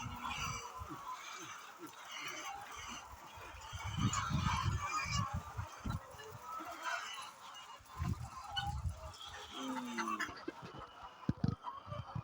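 Poultry on a farm in Ghana cluck and honk in a dense, busy chorus close by, with people talking faintly underneath.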